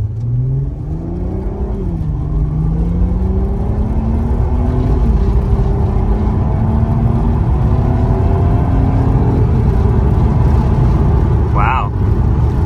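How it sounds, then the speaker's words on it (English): A Mk1 Audi TT with a DSG gearbox in sport mode accelerates hard from inside the cabin. The engine drone climbs steadily in pitch, dips briefly at each quick, seamless upshift, and keeps rising over a loud road rumble. "I'm gonna get on it in sport mode and see how she shifts."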